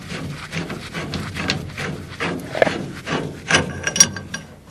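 A metal fitting on a furnace gas valve is unscrewed with a wrench, giving a run of close, rhythmic ratcheting and grinding clicks with no talking.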